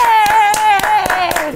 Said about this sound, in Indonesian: Tepuk tangan untuk Anggis Devaki